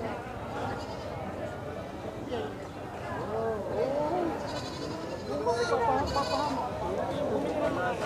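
Goats bleat repeatedly at the Padre Garcia goat market, several wavering calls rising over a busy crowd murmur with people talking nearby throughout.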